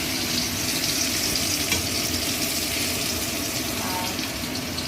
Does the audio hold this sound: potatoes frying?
yes